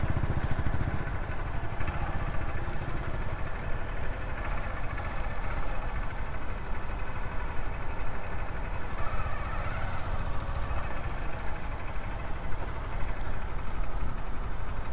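A motorcycle engine idling and rumbling steadily nearby for the whole stretch, low and constant with no talking.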